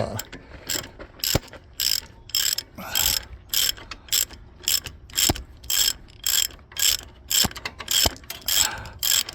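A ratchet backs out 18 mm bolts from the front hub assembly of an 08 Hummer H2, giving loud, close bursts of fast clicking in a regular stroke-by-stroke rhythm, with no voices.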